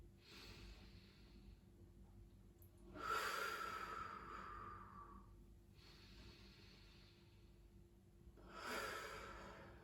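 Slow, close breathing during a gentle physiotherapy exercise, with two soft breathy inhale and exhale cycles several seconds apart, each rising as a hushed rush of air and fading back into quiet room tone.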